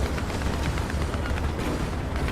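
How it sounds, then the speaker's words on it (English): Dense, continuous rumble of gunfire and booms in War Thunder, an M4A1 Sherman tank battle, heavy low thuds overlapping steadily for the whole stretch at close range, with no clear speech. "Someone's shooting at me."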